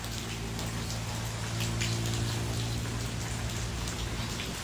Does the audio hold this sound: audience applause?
no